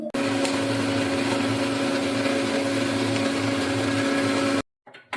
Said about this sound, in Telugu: ఈ వీటిని ఫస్ట్ మిక్సీ పట్టేసుకొని పేస్ట్ రెడీ చేసుకుందాము